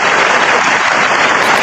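Loud, dense applause from a group at a soul line dance event, steady and continuous with no voices above it.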